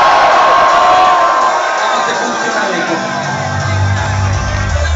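A live concert crowd in Rome cheering and shouting, a loud dense roar of many voices with whoops, sustained throughout.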